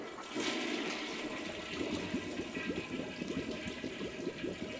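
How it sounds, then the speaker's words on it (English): A toilet flushes in the game I Am Fish, a sustained rushing, gurgling swirl of water that stays fairly steady for several seconds, heard up close and alone. "Toilet flush?"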